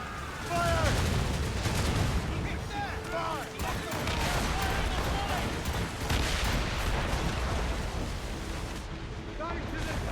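Booming cannon fire in an Assassin's Creed Rogue naval battle, dense and continuous across the whole stretch with repeated blasts, crackling gunfire and spray-like noise, while shouted voices come through now and then.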